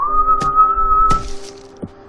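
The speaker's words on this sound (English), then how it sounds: "Whistle reeds. They whistle in the window." Whistle reeds from the game Crashlands give off a steady, clear, close whistling tone lasting about a second, broken by sharp cracking clicks, then a softer click as it fades.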